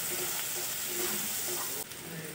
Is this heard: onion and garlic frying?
yes